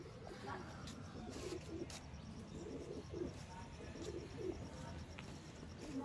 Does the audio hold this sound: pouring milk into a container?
no